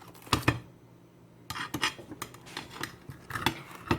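Scissors cutting through a DiGiorno thin and crispy pepperoni and peppers pizza: a series of quiet crunchy snips and scraping crackles in irregular bursts, close but soft.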